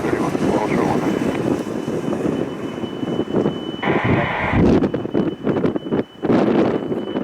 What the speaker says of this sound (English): 787 Dreamliner. Coming in on the right side, 19 right.